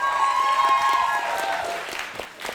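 An audience claps for Jean-Max at a live French show, a dense, fairly loud wash of applause that gradually thins out toward the end.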